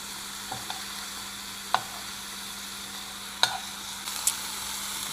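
Food coated in a chili lime rub fries in a pan with an even, hissing sizzle, broken by a few sharp clicks and taps of a utensil.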